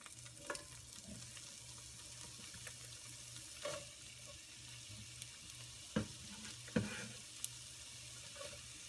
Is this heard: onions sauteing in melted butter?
yes